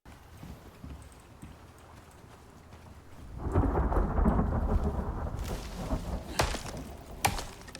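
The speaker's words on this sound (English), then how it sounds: "weather event, flash storm comes up" A flash storm in the video game Icarus: quiet ambience gives way to a sudden heavy downpour of rain with rumbling thunder, then sharp cracks of thunder near the end.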